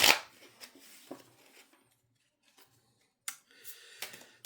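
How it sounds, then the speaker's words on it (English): Tarot cards are shuffled by hand in a few short, close riffling bursts separated by near-silent pauses. "I'm just going to shuffle a little bit more."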